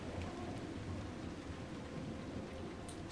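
Rolling thunder from lightning strikes rumbles in the video game Dragon Age Inquisition, a steady low roar mixed with rain-like hiss that stays loud and continuous throughout, with no voices over it.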